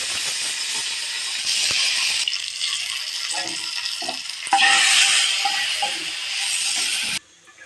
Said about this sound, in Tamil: இப்போ கடுகு நல்லா வெடிச்சிருச்சு.